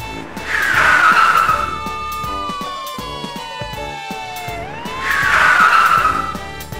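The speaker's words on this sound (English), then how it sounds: "Police car." Police car squealing its tires in two sharp bursts, with a long gliding whine between them, all over a music bed.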